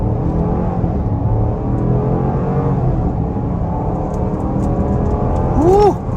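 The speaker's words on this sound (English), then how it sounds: "we can try an acceleration off the line in normal mode, not sport, but off the line on the gas" A 2023 Jeep Grand Cherokee Summit with a HEMI V8 pulls away hard from a stop in normal mode, heard from inside as a steady, loud engine rumble that builds with rising revs, with a brief voice near the end.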